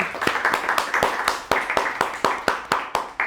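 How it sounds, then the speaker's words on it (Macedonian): A group in a training session claps for the second group, a quick run of sharp, close hand claps in an uneven rhythm that fades out after a few seconds. "Да дадеме аплауз за втората група, може?"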